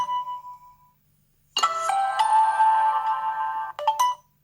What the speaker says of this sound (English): And then you've got your notifications here.